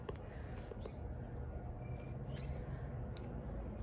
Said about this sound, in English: Do y'all hear the birds?